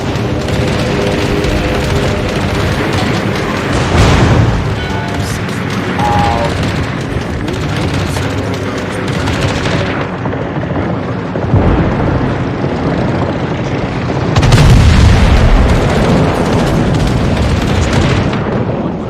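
Loud booming ship explosions and rapid naval gunfire in World of Warships fill a dense, continuous battle soundscape, with heavier blasts around the middle and near the end.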